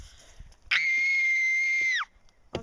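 At a campsite, a person lets out one sustained, piercing high scream lasting over a second, loud and close, with brief faint noises before and after.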